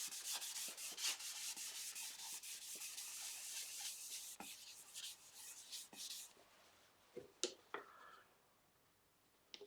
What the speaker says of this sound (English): just applying it with a paper towel